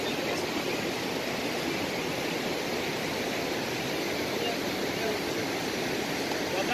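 High river water rushes along a washed-out road near Tekeli toward Burkhan Bulak, a steady broadband roar that holds evenly from start to finish at moderate level with no break.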